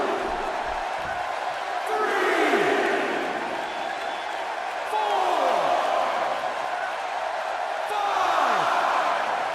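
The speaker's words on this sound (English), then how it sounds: "The crowd is buzzing." A virtual arena crowd in the WWE 2K17 wrestling game roars in broad swelling waves, loud and continuous, rising in three surges, while commentators' voices run faintly underneath.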